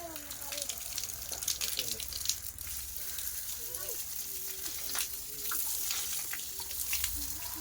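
Water pours and splashes steadily onto a concrete slab over a prayer room in a house under construction, a continuous gushing hiss with faint voices in the background.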